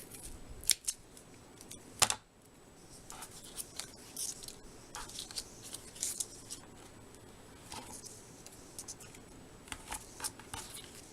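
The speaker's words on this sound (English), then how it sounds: "I'm just going to cut this in half and put it on the back." Scissors cut a piece of card in half during Thanksgiving card making, with several sharp close snips and crisp cutting sounds spread irregularly over quieter paper handling.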